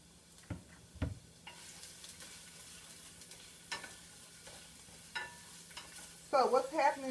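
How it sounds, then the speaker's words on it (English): Onions sauté quietly in a pan beside split chorizo, a soft steady sizzle with occasional scraping and stirring clicks, faint and close, with a brief burst of louder sound near the end. "I have my onions here that I'm going to saute"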